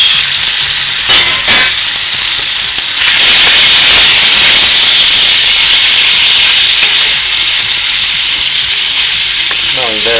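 Fish frying in a pan for fideua gives a loud, close, constant sizzle with a bright hissing texture and a few crackles near the start, holding steady throughout.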